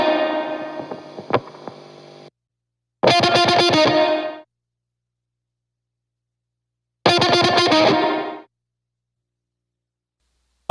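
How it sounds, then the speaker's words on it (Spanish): Electric guitar run through distortion effects sits idle while the player is not playing, giving off a buzzing, harmonic-rich hum that cuts off abruptly, then returns in two separate loud bursts with silent gaps between. "el hum de una guitarra eléctrica con distorsión mientras el intérprete no está tocando"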